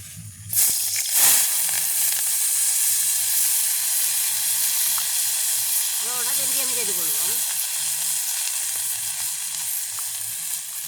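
Onion, green chilli, garlic and curry leaves sautéing in a hot pan for a village-style mushroom curry, a loud continuous hiss and sizzle with stirring scrapes, plus a short rising tonal sound midway.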